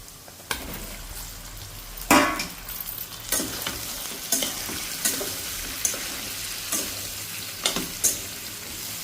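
Tender okra pieces fry and sizzle in a pan, with a steady hiss broken by several sharp stirring scrapes and clatters, close and fairly loud, and no one speaking.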